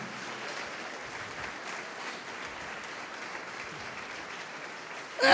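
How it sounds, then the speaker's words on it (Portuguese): Church congregation applauding during a sermon at an eschatology conference, a steady, moderately distant wash of clapping that continues evenly, ending in a brief louder burst. "Pode aplaudir o Senhor Jesus e glorificar."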